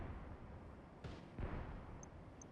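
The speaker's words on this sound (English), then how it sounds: "Enemy artillery incoming." Incoming enemy artillery in a war strategy game, two distant booming impacts about a third of a second apart over a low rumbling background, faint overall and without speech.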